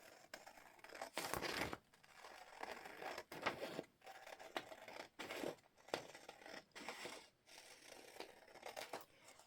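Scissors snip and crinkle a page cut from the back of a book, an irregular run of close, crisp paper cuts and rustles with short pauses between strokes, quiet and without voices.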